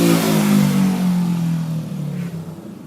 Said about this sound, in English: Had to let some idiot go by on a motorcycle.